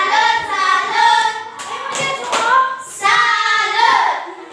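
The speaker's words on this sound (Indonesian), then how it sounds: "berikan tepuk salut untuk kelompok 3" A primary school class gives a rhythmic salute clap for group 3 during a science lesson, with claps mixed into loud chanting voices in a few short bursts.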